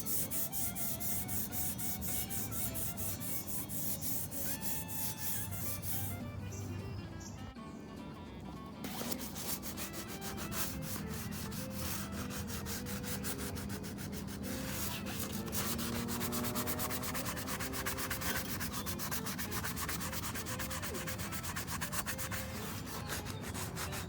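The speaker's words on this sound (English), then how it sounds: "I'm now going to just take a sanding pad to this and" A sanding pad is rubbed over the dried finish of a salvaged Checker Cab A4 rear luggage rack, making continuous rasping strokes that run for most of the stretch, with faint tonal sound in the background.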